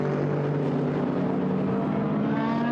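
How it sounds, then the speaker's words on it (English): GT race cars at Silverstone circuit, a loud, steady engine drone with layered harmonic whine that shifts slightly in pitch as the cars pass close by, with no talking. "the leading cars work their way out of the loop once again"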